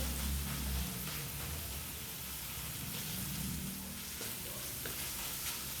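Tofu and pork with black beans sautéing in a pan, giving a steady, close sizzle and hiss from start to finish with a few faint stirring scrapes.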